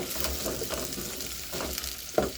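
Beef frying in a saucepan while being turned and stirred, a steady sizzle with soft scraping pulses and a small clink near the end.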